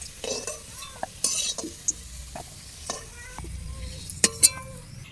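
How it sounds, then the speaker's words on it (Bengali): Potatoes frying in oil with turmeric in a home kitchen, a steady soft sizzle under repeated scraping strokes of a utensil against the pan and a few light metallic clinks. "তো আলুটা আমার এখানে লাল লাল করে ভাজা হয়ে গেছে"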